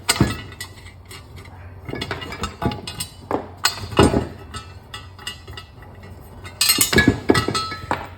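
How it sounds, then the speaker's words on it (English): Metal bolts are handled while a wine grape destemmer's electric motor is being replaced, giving a string of sharp clinks and taps at irregular intervals, close by and fairly loud, with no one speaking. "I go ahead and get my bolts ready"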